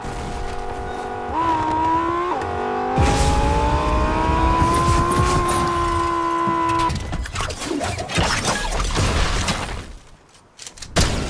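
A car in the video game Fortnite drives with a steady, humming engine note that rises and holds for several seconds before giving way to clattering game sounds and a brief dropout near the end.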